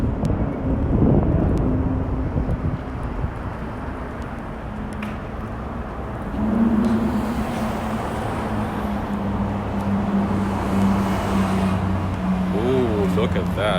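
A Ferrari's engine hums and builds on a New York City street, rising as it passes with a growling tone under wind buffeting and a nearby person talking.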